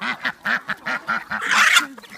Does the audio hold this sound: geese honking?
yes